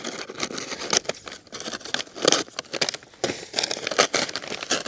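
Snipping and rustling while cutting weeds in a strawberry bed, close crisp cuts and crinkling foliage in irregular bursts.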